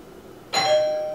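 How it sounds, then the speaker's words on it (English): A doorbell rings once indoors, a bright ringing chime that starts abruptly and then hangs and slowly fades, loud and alone with no talking over it. "ring the doorbell."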